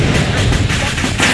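A video game explosion blast sounds as a dense, continuous roar of heavy booms and crackling fire, loud and close, with a pulsing rumble through the whole stretch.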